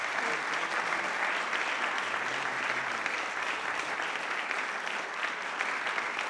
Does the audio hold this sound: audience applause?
yes